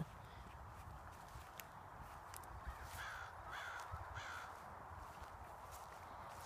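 Several crows caw in a short burst of calls from a fruit orchard, fairly distant and faint over a steady outdoor hiss, with a few soft thuds nearby.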